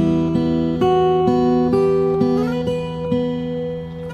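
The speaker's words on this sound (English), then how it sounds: "so let's get started with the intro. The first bar sounds like this." Fingerstyle acoustic guitar plays the opening bar of a song, a steady run of plucked notes alternating between the top two strings, clear and close, each ringing into the next with no voice over it.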